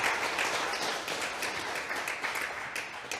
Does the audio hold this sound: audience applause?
yes